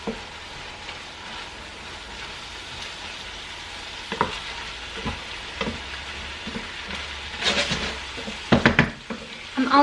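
Carrot goes into a pan of sizzling vegetables and gets stirred, a soft steady frying hiss under occasional scrapes and clinks of a utensil against the pan that grow busier toward the end.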